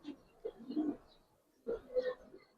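Pigeons cooing softly in a loft of Giribaz and coloured pigeons, two short bursts of low throaty coos separated by a pause, quiet and close.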